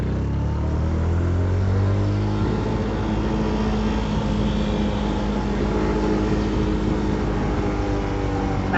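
A small motorbike, Honda Wave or Yamaha Finn, climbing a hill road in low gear, its engine droning steadily and loudly throughout, close with wind rush and no pauses.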